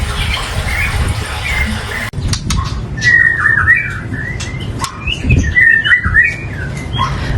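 Shrike songbirds (pentet) from Sumenep, Madura, chirp and call at a bird warehouse, with bright repeated tweets and squawks over a steady background hum and clatter.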